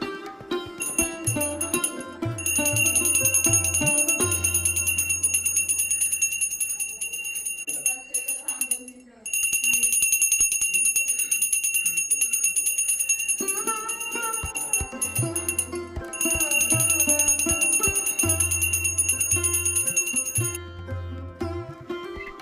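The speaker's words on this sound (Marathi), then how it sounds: "त्यावेळी घंटा वाजवत आवाज केला जातो" During a Konkan Gauri welcoming ritual, a small hand bell rings steadily in a rapid, continuous jingle, loud and close, over a dense layer of other ritual sounds with a brief lull partway through.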